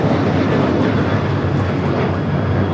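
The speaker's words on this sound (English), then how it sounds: "taking off to Phoenix on the 737-800." An American Airlines Boeing 737-800 takes off from LAX bound for Phoenix, with loud, close, continuous jet engine roar filling the short stretch without any voices.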